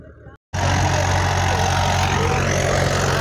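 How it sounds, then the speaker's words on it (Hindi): Swaraj 855 tractor engine roaring steadily at close range after a brief moment of quiet, a dense, loud diesel drone with a constant low throb. "ये 855 गया ट्रैक्टर"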